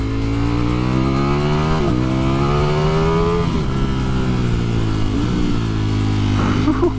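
A 2020 Ducati Streetfighter V4 rides through a bumpy bend, its engine a loud steady drone that dips and climbs in pitch as it eases off and pulls out of the corner, with wind rush throughout.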